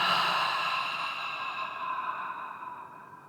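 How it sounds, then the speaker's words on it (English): One long, deep exhale flows out through the mouth, close and audible, slowly fading as the breath empties during a yoga flow. "take a deep breath into the heart and exhale out through the mouth"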